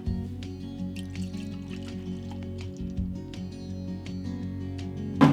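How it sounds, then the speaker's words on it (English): Beer from a home-bottled batch is poured into a glass, giving a soft gurgling, dripping fill with scattered fizzy pops and a low steady background hum over about five seconds. "Let's pour this so we can try them."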